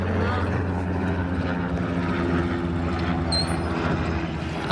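A helicopter flies overhead above rain-flooded countryside, its rotor and engine making a steady, loud, droning hum that holds throughout.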